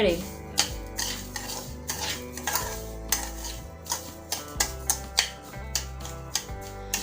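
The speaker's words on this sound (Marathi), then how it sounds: "सतत ही साखर आपल्याला हलवत राहायची आहे" Sugar melting in ghee is stirred in a pan for fresh coconut chikki, with a spoon scraping and clinking against the metal in a quick, steady rhythm. Music plays underneath, and the stirring sounds close and distinct.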